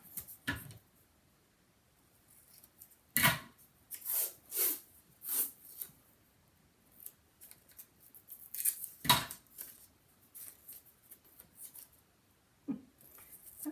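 Tape pulled off a roll and pressed over a gap between cardboard boxes, with sharp tearing and rasping bursts scattered between quiet stretches, heard up close.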